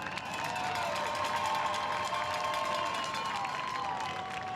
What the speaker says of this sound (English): Let's get a round of applause, make some noise for Team Tigers.